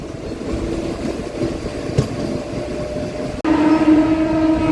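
A MEMU local train racing through open fields past prawn ponds, heard from on board as a steady rumbling roar of wheels and carriages that abruptly grows louder and takes on a sustained tonal hum near the end.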